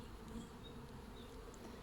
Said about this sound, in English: Bees on the bottom here.